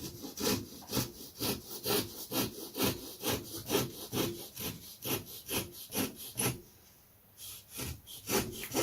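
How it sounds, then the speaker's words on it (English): Hand saw cutting a slot in wood for a dihedral brace on a model aircraft repair, with steady rhythmic back-and-forth rasping strokes, close and clear, pausing briefly near the end before resuming. "I'm just going to cut a slot here for the dihedral brace."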